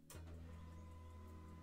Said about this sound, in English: my printer just started up and it's printing